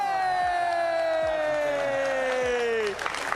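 An arena crowd at the Rocket League World Championship roars and cheers over a long descending whistle-like tone, with a dense wash of voices that swells into louder shouting near the end.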